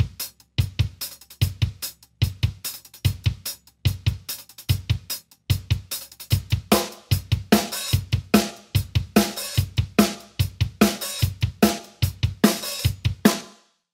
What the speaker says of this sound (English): I want to show you how to treat a bass drum or kick drum